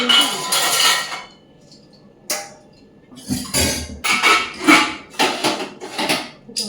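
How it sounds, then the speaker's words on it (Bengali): Boiled chow mein noodles are tipped into a strainer basket to drain, producing bursts of rushing, splashing water and clattering knocks of the basket, close and uneven with short pauses between pours. "চাউমিনটা জল ঝরিয়ে নিই ভালো করে"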